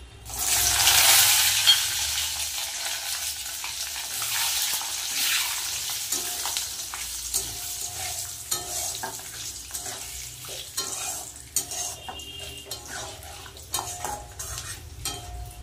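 Peanuts hit a hot pan and are stir-fried for a vegetarian thali, with a loud initial sizzle that settles into steady frying and repeated scraping and clinking of a spatula, close and continuous with no talking.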